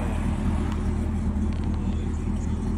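Cars at a street race in Mexico roar past close by, with a thick, continuous engine rumble that stays loud across the whole moment.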